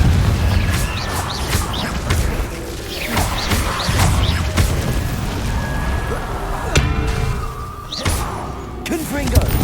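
Confringo blasting spell in Hogwarts Legacy, heard as a dense run of thuds, booms and whooshing impacts over busy combat noise, with a voice speaking throughout.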